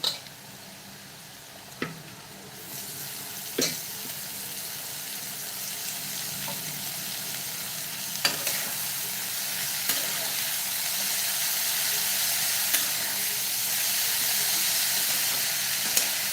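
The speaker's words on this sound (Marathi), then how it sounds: "आता आपण चिरलेला पालक घालूया" Chopped spinach for aloo palak sizzles in a pan, a soft steamy hiss that slowly builds and brightens, broken by a few sharp clinks and taps of a utensil spaced several seconds apart.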